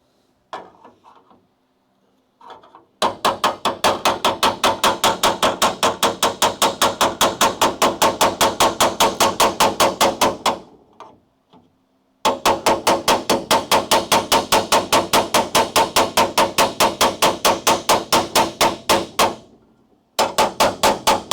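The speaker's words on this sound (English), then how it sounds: "We can hammer and dolly that thing into place." Hammer and dolly striking a car body panel during restoration of a crew cab Charger, in rapid, evenly spaced metallic blows that run in long bursts separated by short pauses, loud and close, with no talking.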